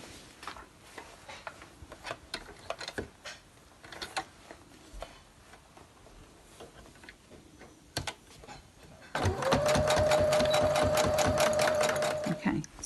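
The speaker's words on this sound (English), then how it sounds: "And then what we're going to do is sew across" A sewing machine stitches across Colour-Me-In fabric to form a square base. It runs as a loud, dense, rapid run of stitching in the final few seconds, after a quieter stretch of handling noises.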